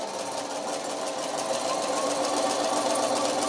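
A sewing machine stitches lightweight fabric along a quarter-inch seam, its needle hammering in a fast, steady mechanical rhythm that is loud, close and continuous throughout.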